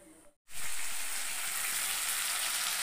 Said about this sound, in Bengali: আমি এতে জিরে ফোড়ন দেবো, একটা তেজপাতা দেবো